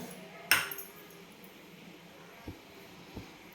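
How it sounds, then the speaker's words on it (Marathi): A tava griddle is set down on a gas stove with one sharp metallic clank, followed by a low hum of background noise and a couple of soft knocks. "तर हा ठेवला आहे तवा आता"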